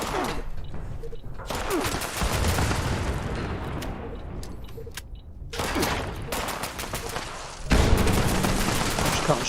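Rapid bursts of game gunfire from Fallout 76 crackle in repeated volleys, loud and close, with short pauses between firing runs and a heavier burst near the end.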